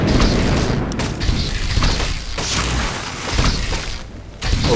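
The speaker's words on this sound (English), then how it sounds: "Thunder!" Thunder from a storm in Warcraft III Reforged rolls in as a loud, sustained rumbling boom with crackling texture that swells and fades over several seconds.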